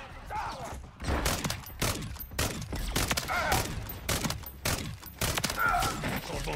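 Gunfire in a Call of Duty zombie mission, with heavy, loud shots and booming impacts in irregular clusters close by, amid game effects.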